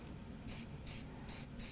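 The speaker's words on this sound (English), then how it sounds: "we're just going to use a spray lacquer or brush on glaze here for the mistletoe" An aerosol can of lacquer sprays sugar mistletoe leaves in four short, evenly spaced hissing bursts, close and moderately loud over a quiet room background.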